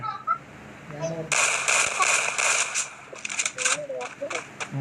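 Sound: gunfire in the video game Free Fire

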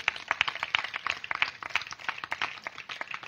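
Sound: audience clapping

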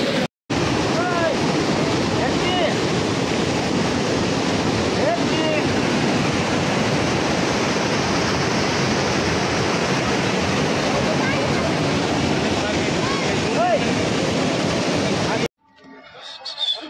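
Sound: waterfall rushing water in Mussoorie

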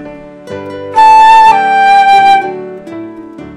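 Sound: appoggiatura ornament played

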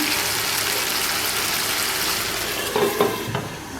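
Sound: stirring hilsa fish curry with potato and brinjal in pan

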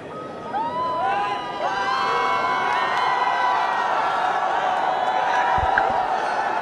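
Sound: cricket crowd cheering for home side in Dhaka

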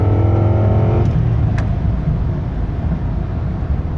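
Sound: 1996 Lincoln Mark VIII accelerating at full throttle

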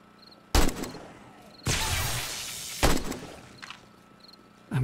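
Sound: gunfire in the video game 7 Days To Die

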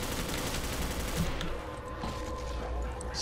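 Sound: shotgun gunfire in a Call of Duty zombies video game

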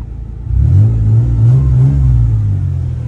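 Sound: truck engine starting and revving

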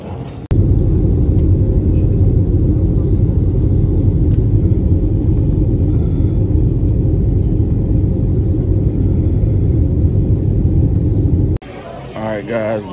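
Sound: airplane landing, cabin rumble

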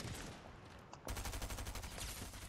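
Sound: sniper gunshots in a video game

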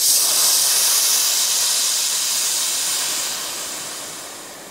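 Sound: superheated steam hissing

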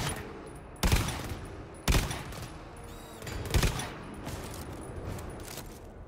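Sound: creature shooting spores in GTFO video game

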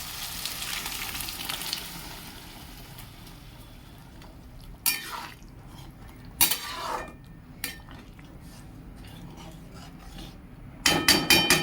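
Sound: boiled peas added to spiced oil in a cooking pan

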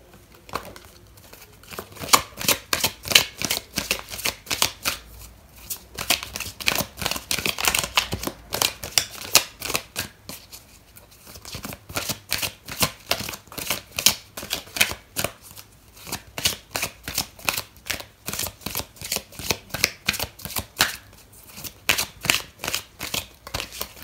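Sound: tarot cards being shuffled and drawn

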